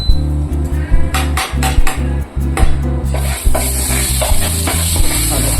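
Egg curry masala being mixed with turmeric, salt and chili powder in a pan, a close, loud series of rhythmic metallic clanks and scrapes from a spoon against the pan, with a faint sizzle underneath and no talk.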